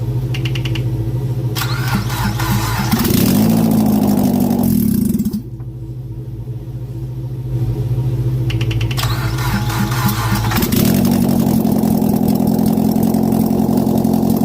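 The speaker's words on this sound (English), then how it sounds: "Basically, I fired up the car," A Mitsubishi Lancer Evo from an abandoned build cranks and fires up, settling into a loud, steady idle with a couple of rev swells and a brief dip before the engine note returns.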